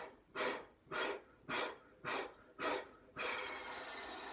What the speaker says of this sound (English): And you exhale, but you do it staccato style.